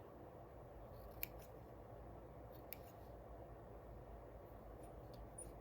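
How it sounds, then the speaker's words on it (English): Small scissors snipping stray wool fibres off a needle-felted sheep, a few sharp faint clicks, at least two distinct snips, over a quiet steady room hiss with no talking. "you can take a pair of needles, or not needles, scissors, and then just trim those."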